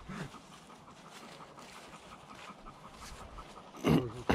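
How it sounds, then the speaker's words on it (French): A dog pants quickly and steadily close by in a quiet indoor space, and a couple of louder bumps or movements come near the end. "C'est beau ce chien."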